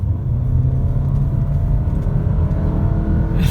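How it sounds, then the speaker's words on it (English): A 2017 Toyota RAV4 Luna Sport Hybrid accelerates hard at full throttle, its steady, loud engine drone and road rumble filling the cabin continuously with no break. "if we floor the car,"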